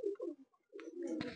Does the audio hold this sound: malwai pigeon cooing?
yes